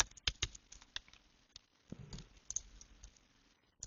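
Typing on a computer keyboard: a few faint, irregular clicks and light taps close by in a quiet room, with short pauses between keystrokes.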